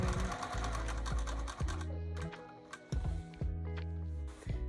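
Sewing machine stitching a quilted bag, a loud close rhythmic mechanical chatter with brief pauses and restarts as the fabric is guided, no voices.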